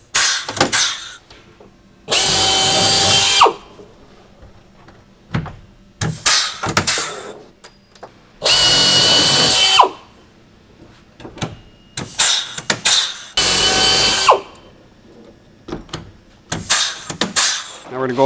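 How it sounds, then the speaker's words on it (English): A power drill fitted with a 13/64 bit bores rivet holes through the pre-drilled bottom of a PolyJohn side panel into the base, in several loud, close whining bursts with quiet gaps between. "drilling through the pre-drilled holes in the bottom of the side panel and into the base around using a 13/64 drill bit"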